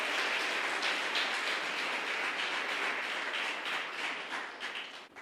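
A church congregation applauding during a sermon, a dense, sustained wash of clapping from many hands that holds steady and fades a little at the close.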